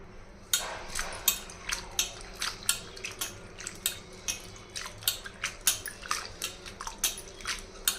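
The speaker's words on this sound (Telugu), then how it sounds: "ఈ నీళ్ళు పారపోసేసి కొంచెం మంచినీళ్ళు వేసి కడిగేయాలి" Water splashing and sloshing in a bowl as dried anchovies are washed, with repeated rhythmic scrubbing strokes, each a short wet burst, steady and close with no talking.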